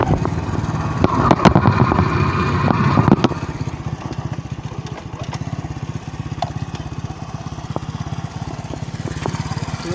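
A motorcycle engine runs steadily while riding, a close, rough mid-pitched drone with a slightly louder, busier stretch at the start before settling into an even hum.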